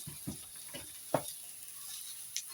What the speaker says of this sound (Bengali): তো চিনিটা ছড়িয়ে আমি আবার ফের নাড়তে থাকবো।